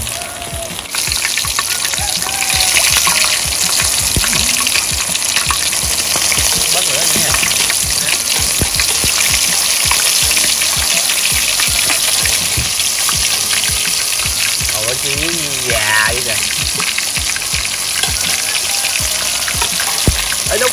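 Field crabs fry in a pan with a loud, steady hiss and crackle of hot oil that runs the whole time, close up, while a voice talks faintly beneath it.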